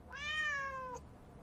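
A cat gives a single drawn-out meow, fairly close and clear, its pitch falling slightly toward the end before it trails off over a low background hum.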